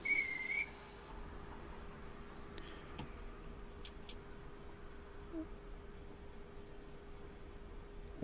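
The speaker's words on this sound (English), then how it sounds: "We got the guard whistle" A guard's whistle on a Class 415 4-EPB electric multiple unit in Train Simulator Classic gives one short, shrill blast at the start, then fades into a quiet cab hum with faint ticks.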